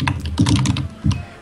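Loud, close computer keyboard typing in bursts of rapid clacking keystrokes, three clustered flurries separated by brief gaps, with no talk over it.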